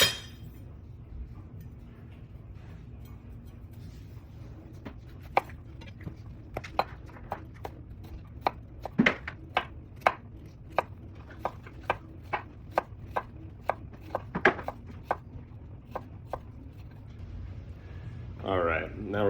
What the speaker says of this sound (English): in the meantime, I'm gonna cut up this onion